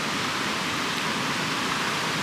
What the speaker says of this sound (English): there's this creek back here, Lehman Creek, here at Upper Lehman Campground at Great Basin National Park.